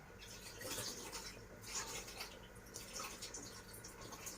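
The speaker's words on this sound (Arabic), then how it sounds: "هصفي بس الرز بتاعنا عشان انا نقعاه" Soaked rice being drained through a strainer, water splashing and trickling in uneven bursts for several seconds, close and moderately loud.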